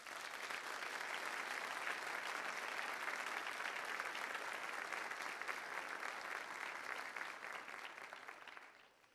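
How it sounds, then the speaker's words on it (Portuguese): Sustained applause from a church congregation, steady and dense throughout, fading slightly at the very end. "Dá uma salva de palmas para Jesus."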